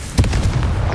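A Confringo spell explosion goes off in the video game Hogwarts Legacy as a loud, close burst. Sharp crackling pops come in quick succession over a dense rumbling blast.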